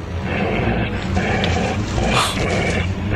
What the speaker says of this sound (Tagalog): Isang malaking asong itim.